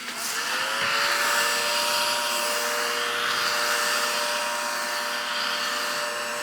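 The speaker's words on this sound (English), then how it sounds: "I bought this little tiny vacuum and I wanted to show you how great it works" Small handheld vacuum cleaning dog hair off a desk, running with a steady high-pitched motor whine that holds at a continuous loud level throughout, with no talking.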